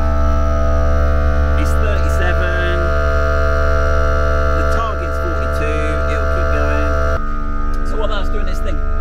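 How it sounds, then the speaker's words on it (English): A tyre air compressor runs while it inflates a Tesla Model 3 tyre, producing a loud, steady, humming drone that holds for the whole stretch, with a voice talking faintly over it. "So our compressor's going."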